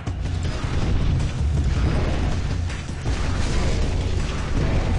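A rocket launcher fires in a video game, giving rumbling, booming blasts with low, heavy bursts that carry on over about five seconds, loud and continuous, with no talk.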